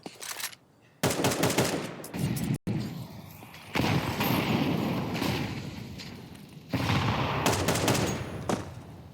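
Rapid rifle fire and heavy AWP sniper shots, including wallbang shots through cover, during a professional Counter-Strike match between B8 and PVISION at the StarLadder Budapest Major 2025. Dense bursts of loud, close gunfire come in several volleys with brief gaps and no talk.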